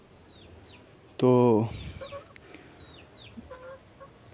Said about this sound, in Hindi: अभी ये दोनों मेरे ख्याल में मुर्गी हैं, दोनों मुर्गी हैं।